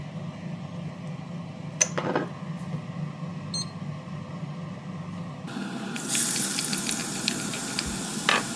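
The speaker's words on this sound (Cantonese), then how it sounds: "熱鑊倒2至3湯匙嘅油落去，" Two to three tablespoons of oil heating in a hot wok to make garlic oil; a soft crackle gives way to a loud, steady hiss that fills the last few seconds.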